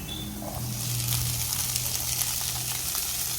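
Corn kernels tumble into a hot pan of carrots and butter, setting off a steady, fairly close sizzle that holds for a few seconds with faint scraping.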